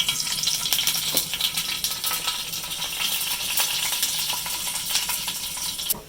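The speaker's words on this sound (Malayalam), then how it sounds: "കടുക് പൊട്ടി." Mustard seeds splutter and pop in hot coconut oil in a pan, a dense run of sharp crackles and snaps, close and steady throughout with no talk.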